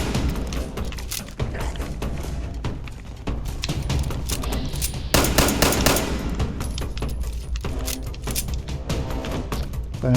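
Rapid automatic gunfire in the video game Fallout 76, dense bursts of loud shots and thumps rattling almost continuously, with a heavier cluster midway through.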